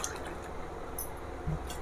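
About one and a half to two glasses of water go into a kadhai set up for steaming dhokla, making a short, close splashing trickle with a few soft drips.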